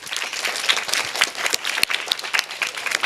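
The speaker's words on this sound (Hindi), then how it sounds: "तो बच्चों, इनके लिए एक ताली हो जाए।" Children applaud together in an indoor gathering, producing a dense, lively burst of clapping that continues steadily at close range with a few sharper individual claps standing out.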